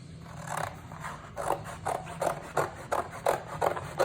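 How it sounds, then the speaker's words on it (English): Scissors snip through the cardboard flaps of a cake box, a steady series of close, crisp cuts about twice a second over a faint low hum. "I'm going to cut the flaps off."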